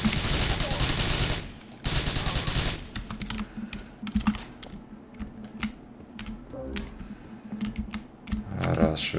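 Rapid bursts of gunfire in the video game GTA 4 crackle in the first few seconds, then give way to scattered sharp shots and clicks, close and fairly loud.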